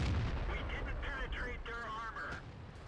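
A tank cannon fires in World of Tanks, a deep heavy boom at the very start, followed by someone talking over the faint rumble of the battle.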